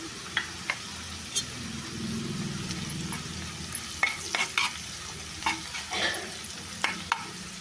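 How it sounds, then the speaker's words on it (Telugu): Sliced onions and split green chillies fry in a pan, a soft steady sizzle with a low rumble early on, then sharp clacking stirs and scrapes clustered in the later seconds. "ఉల్లిపాయలు కొద్దిగా ఫ్రై అయిన తర్వాత ఇప్పుడు దీంట్లో పచ్చిమిర్చి వేస్తున్నానండి"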